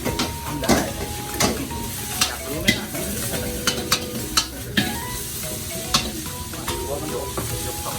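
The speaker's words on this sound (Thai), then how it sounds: "ผัดสองกระทะยกแขนพร้อมกันเนี่ย ยกกระทะลอยเนี่ย" Busy sizzling and frying in two woks at a Thai street-food stall, with repeated metallic clanks and scrapes of spatulas against the woks, a steady hiss underneath and sharp strikes every second or so.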